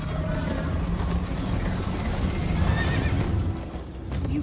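In the Minecraft: Story Mode video game, a horse whinnies repeatedly while hooves clatter at a gallop, loud and continuous, with a faint brief voice.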